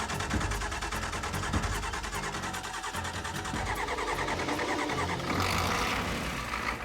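An old dually pickup truck's engine turns over and runs with a steady, loud rumble that holds throughout, rising slightly in intensity near the end.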